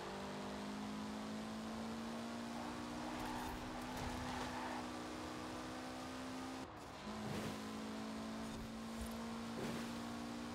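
Turbocharged car engine in Forza Horizon 4 holds a steady droning note, briefly dipping and shifting pitch near the end as it keeps running at a moderate level.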